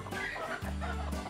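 Village hens and Arab chickens on a poultry farm cluck in short throaty bursts, two clear clucking calls close by against faint background noise.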